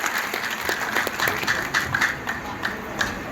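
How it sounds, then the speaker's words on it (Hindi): Sustained audience applause from a crowd at a Hindu religious gathering (dharma sabha) honoring a poet, steady dense clapping at moderate distance with no talk over it. "जोरदार तालियों के बीच आवाज दीजिए मेरे बड़े भाई अमित"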